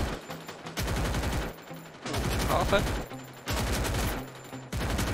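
Rapid bursts of automatic gunfire from a shooting video game played with a PS5 controller, repeating in several loud volleys separated by short pauses, with someone talking briefly over them.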